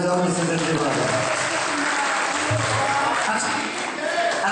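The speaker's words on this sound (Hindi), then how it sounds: "माइक वाले के सम्मान में एक बार जोरदार तालियां बजाओ" Loud, sustained applause from a crowd at a Hindu religious ceremony honouring the microphone operator, steady and dense throughout with voices mixed in underneath.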